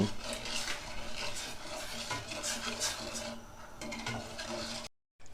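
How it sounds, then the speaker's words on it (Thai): Dipping sauce ingredients are stirred in a pot or bowl, giving soft, continuous scraping and clinking with faint kitchen background, before the sound cuts out abruptly. "คนส่วนผสมทั้งหมดที่ใส่เข้าไปนะครับให้เข้ากัน"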